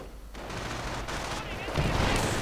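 Gunfire erupts in a strategy video game battle as grenadiers advance, with dense overlapping bursts and crackling volleys in a short, loud stretch of combat noise.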